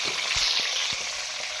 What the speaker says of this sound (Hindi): चिकन को हम अच्छी तरह से फ्राई करेंगे घी में।